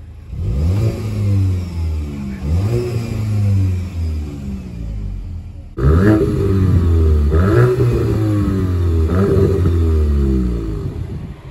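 Volkswagen Golf 8 GTI in sport mode, engine revved repeatedly in rising and falling sweeps, close and loud, with a short dip then a stronger run of revs building and falling back.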